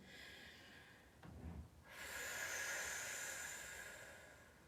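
A person doing yoga draws one deep breath, a short sharp inhale, then lets out a long, steady breathy exhale that carries to the end, close and soft with no talking.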